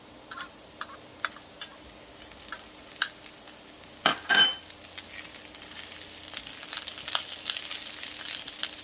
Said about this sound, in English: Time to start putting these onions in.